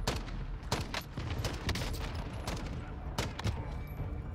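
Rapid gunfire in the Call of Duty Warzone video game, bursts of sharp shots cracking repeatedly over dense battle noise, loud and close.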